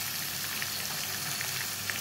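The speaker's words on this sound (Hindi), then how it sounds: "मैं शिमला मिर्च को फ्राई कर रही हूँ" Chopped capsicum fries in hot oil in a pan, making a soft, even sizzle with light crackles that goes on without a break. The sound is close and nobody talks.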